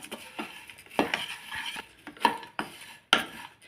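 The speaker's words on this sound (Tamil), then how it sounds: "இப்போ அவளையும் அதுலேயே சேர்த்து நல்லா வறுத்துக்கலாம்" Poha and roasted gram are dry-roasted in a pan, stirred with a utensil in irregular scrapes and light clatters, fairly close and moderately loud.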